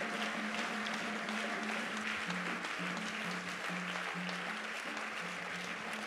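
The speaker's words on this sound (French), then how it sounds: "Est-ce qu'il y a quelqu'un qui peut acclamer très fort le Seigneur?" A church congregation at a Sunday service applauds and cheers for the Lord, with sustained dense clapping and crowd noise filling the room at steady volume, a low hum underneath.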